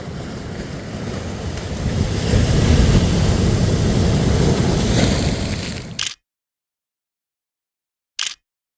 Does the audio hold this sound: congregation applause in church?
no